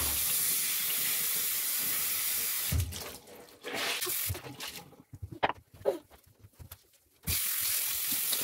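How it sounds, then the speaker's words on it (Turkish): Water runs steadily from a tap during household cleaning, a loud continuous rush that cuts out briefly and returns in bursts, with scattered splashes and clatter between the flows. "Evet, hemen durulayalım."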